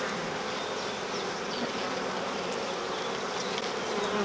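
Honeybees buzzing around an open hive during an inspection, a dense, steady drone of many wings held at an even level for several seconds, close by and with no talking.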